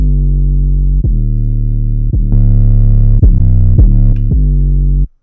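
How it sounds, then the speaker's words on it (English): A loud, heavily distorted 808 bass in a Latin trap beat plays a sequence of sustained, punchy notes that slide between pitches, gaining extra bite and grit partway through. "as soon as I engage the plugin, there's a bit of a punch and a bite to the 808"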